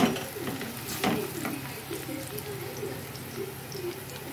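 Pieces of chicken browning in a pan before ginger-garlic paste goes in, a soft steady sizzle with light stirring scrapes, close and moderately quiet.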